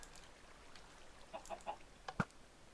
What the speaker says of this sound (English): It looks like someone's rebuilt the chicken farm.